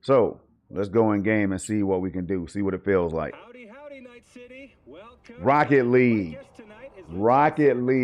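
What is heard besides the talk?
No everyday noises stand out.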